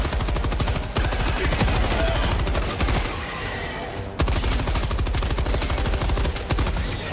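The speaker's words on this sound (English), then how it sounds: "I love this machine gun. This thing is sick." Rapid, sustained machine-gun fire in the Helldivers 2 video game, loud and close, continuous bursts with a brief pause near the middle before firing resumes.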